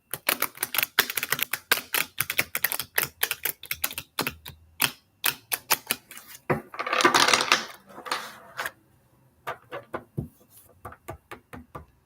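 Tarot cards shuffled again and again during a live reading, giving dense quick riffling clicks and slaps in close bursts, with a short rustling swell partway through and sparser taps near the end.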